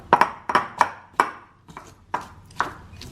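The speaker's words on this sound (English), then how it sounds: "a pinch of salt and then just crush it don't mash it all" Fried bitter gourd crushed with a pinch of salt gives a string of sharp, close knocks, seven or so in an uneven rhythm, each ending in a short ring, with quiet gaps between them and no talk.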